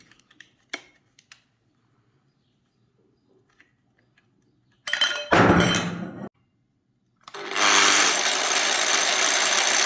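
A Bosch X-Lock angle grinder starts up in bursts: a short roaring spin-up that cuts off, then after a pause it runs steadily at full speed with a loud, even whine, preceded by faint clicks and handling thumps.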